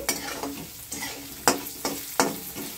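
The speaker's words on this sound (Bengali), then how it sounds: "এই চালটাকে একটু হালকা করে ভেজে নিচ্ছি।" Gobindobhog rice being lightly fried in a pan with whole spices gives a soft sizzle broken by regular stirring scrapes, about four or five strokes, close and with no talk.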